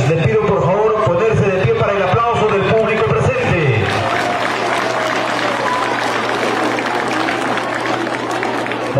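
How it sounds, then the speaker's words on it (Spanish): A festive audience at a Christmas shepherdess singing contest applauds a jury member, a dense sustained wash of clapping from a crowd indoors, with voices and music blending in before the clapping takes over. "Le pido por favor ponerse de pie para el aplauso del público."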